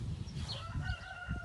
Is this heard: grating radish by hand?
no